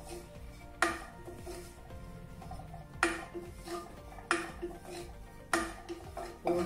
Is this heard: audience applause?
no